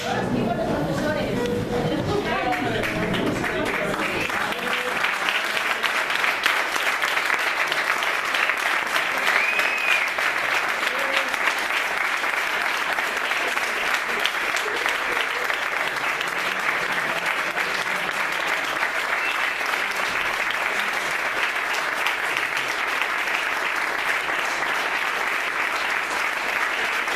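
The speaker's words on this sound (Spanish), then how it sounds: "darles un fuertísimo aplauso a todos los equipos de profesores" Graduation ceremony audience on its feet giving the teaching staff a loud, sustained ovation, dense clapping that runs unbroken for nearly half a minute, with some talk and cheering mixed in at the start.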